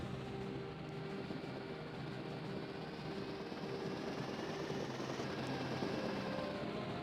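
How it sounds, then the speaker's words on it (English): A helicopter approaches in the naval strategy game Jane's Fleet Command, its faint, steady rotor and engine drone continuous and muffled throughout with no break. "other helicopter coming in"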